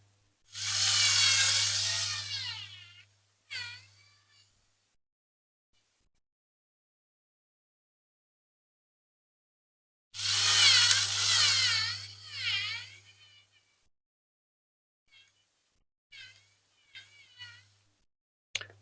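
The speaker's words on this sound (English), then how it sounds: "I've got a slightly bigger drill now," A 4mm drill bores through a Corgi Toys 418 London Taxi diecast model, with two long bursts of loud, whining drilling and a steady motor hum, separated by silence and followed by a few short clicks.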